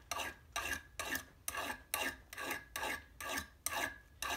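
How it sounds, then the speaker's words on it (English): A fine diamond file smoothing a low-clearance gun gas block, rasping in even back-and-forth strokes, roughly two per second, quiet and close with no talk. "I'll start working on it with the finer files."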